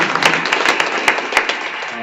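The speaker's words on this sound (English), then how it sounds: "Give her a round of applause." Audience applause during a school district commendation at a livestreamed meeting: a small group claps in scattered, uneven bursts. The claps are fairly close and fade after about two seconds.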